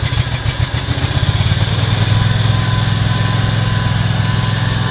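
Scag Tiger Cat II mower engine cold starting on starting fluid, cranking briefly then catching into a loud, steady, rattly run up close.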